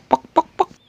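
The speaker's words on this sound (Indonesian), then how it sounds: "Berisik kali lah ayam ini, udah siang masih aja berkuku." A chicken gives three loud, close clucks in a quick, even rhythm, then starts a fourth as the clip ends.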